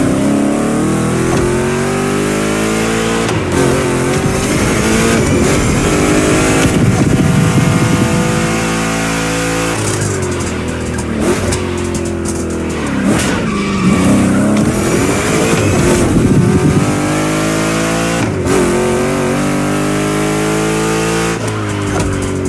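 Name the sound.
two Chevrolet big-block cars racing in The Crew Motorfest video game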